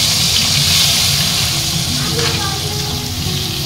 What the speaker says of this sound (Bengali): आलू भाजा तेलेर मध्येई आमी कुचानो पेঁয়াজ दिए दिচ্ছি।